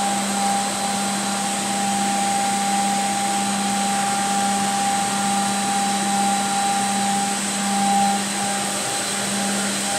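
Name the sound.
HOMAG Profi KAL 3106A20 edgebander applying edge tape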